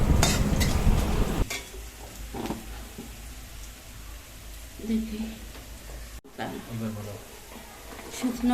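Desi chicken pieces sizzle in refined oil in a pan as they're stirred, loud scraping and frying at first, then a softer simmer with occasional stirs while someone talks over it.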